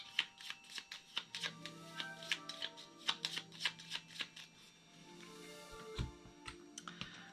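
Cards for the Ghost Fightin' Treasure Hunters board game are shuffled in a quick series of close, crisp riffling flicks, quiet and steady, then a few final taps as the deck settles.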